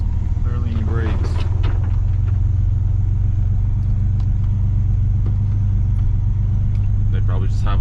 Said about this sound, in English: It's a Jeep, so it should just go up this hill, right?